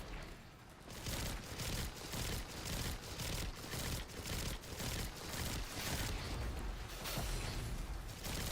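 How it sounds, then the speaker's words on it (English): Video game gunfire: rapid, evenly spaced bursts of sharp, loud shots hammer on almost continuously for several seconds, close and dense, with no talking. "The sniper sniped me out of the air."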